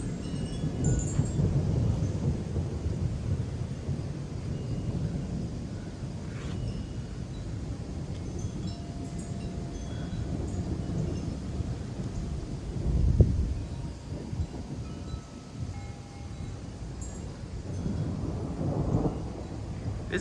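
A stationary thunderstorm with 30 mph wind gusts from the northeast brings a steady wash of rain and wind buffeting, with rolling thunder and one sharper crack near the middle. The storm sounds fairly distant and no one speaks.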